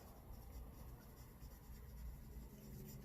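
Pen moving across paper while drafting an outline, a faint, close, continuous scratching with small rhythmic strokes and no voices.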